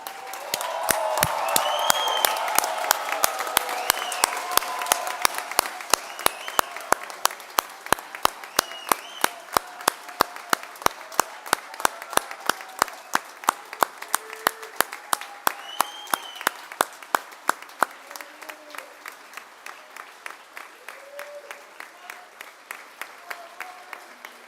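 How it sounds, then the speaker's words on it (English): Applause rises from a standing audience at a Munich commencement ceremony for the class of 2025, dense at first, then thinning into a few sharp, regular claps that fade, with faint voices beneath. "Can I ask the audience to stand up and give the class of 2025 a big applause?"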